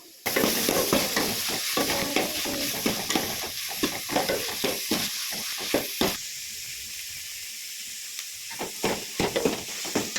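Soaked beans being tipped into a bowl and stirred for a spicy salted bean dish: steady wet scraping and swishing strokes in a quick rhythm, close and fairly loud, with no talking.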